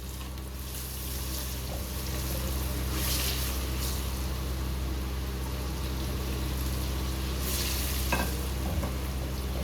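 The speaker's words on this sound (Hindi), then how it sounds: "अभी इसमें हम शामिल करने जा रहे हैं बैंगन।" Eggplant sizzling in hot oil in a pan with red chili powder, a loud, steady crackling fry throughout, with stirring scrapes and swishes rising in short bursts, close up and without any talking.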